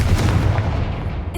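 A Confringo blasting spell goes off in Hogwarts Legacy, a dense, booming burst with a heavy low rumble that holds loud for over a second before cutting off.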